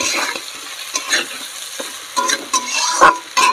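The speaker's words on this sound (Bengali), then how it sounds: "মাছটা একটু হালকা করে নাড়বো" Fried bhola fish gently stirred into a spicy jhal masala in a pan: a loud, close sizzle with repeated spatula scrapes and clinks against the metal in an uneven rhythm.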